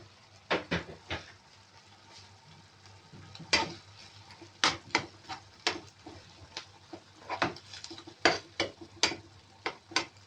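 Shrimp and mushrooms cooking in a pan, with sharp, irregular clinks and scrapes of a utensil against the pan over a faint low sizzle, close and otherwise quiet.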